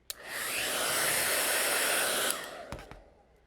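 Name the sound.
hair dryer blowing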